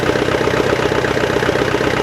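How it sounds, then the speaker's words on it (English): A tractor engine idles steadily while powering an attached digger, a close, continuous low rumble with an even, unbroken drone throughout. "the tractor is powering the digger."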